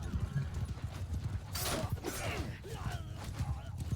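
Horse hooves pound rapidly in a gallop during a battle in the video game Mount & Blade II: Bannerlord, dense and close, with a brief whinny and clashing noise over the thudding rhythm.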